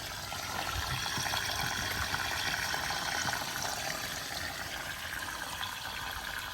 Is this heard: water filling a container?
yes